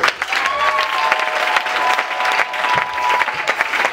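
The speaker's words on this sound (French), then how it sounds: "Est-ce que tu peux encore acclamer très fort?" A church congregation at a fifth-anniversary prophetic ministry celebration cheers and applauds loudly and steadily, a dense wash of clapping with crowd voices throughout.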